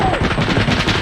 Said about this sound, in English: Gun run coming.